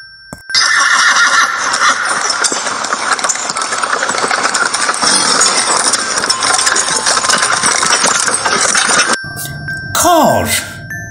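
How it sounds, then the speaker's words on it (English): A horse cart rolls past with a loud, continuous clattering rumble for several seconds, then a horse gives a sharp whinny near the end. "This is a horse cart."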